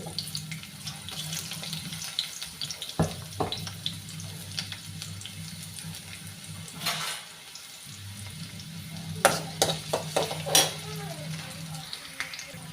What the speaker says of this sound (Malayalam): ഇനി ഈ ഉള്ളി ഒന്ന് ഇത് പിന്നെ ചൂടാവുമ്പോൾ അതിക്കിട്ടിട്ട് സാധാ നമ്മൾ താളിക്കണ മാതിരി തന്നെയാണ്